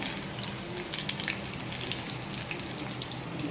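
Food frying in a pan, a steady close crackling sizzle with fine bubbling pops, continuous and even with no voices.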